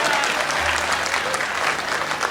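Loud, steady applause from an audience at a Hindi comedy poetry gathering, a dense sustained patter of many hands filling the whole stretch without a break.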